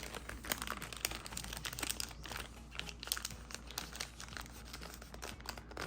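A travel journal page is folded over by hand: faint, close paper crinkling and creasing with small crackles scattered throughout, and no voices.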